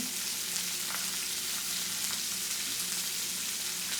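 Prosciutto-wrapped salmon sizzles in a pan at medium heat with a steady, continuous frying hiss and crackle that holds at an even level throughout, with no talking.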